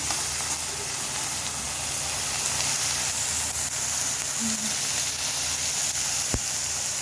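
Puri frying in hot oil, a steady, even sizzle and hiss that fills the whole stretch, with a brief sharp clink near the end.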